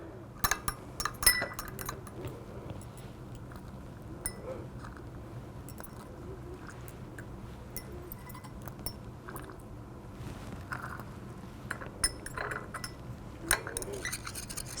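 A glass rod clinks and scrapes against a hot glass beaker while benzoic acid is stirred to dissolve, with light, irregular taps repeating over a faint background hum.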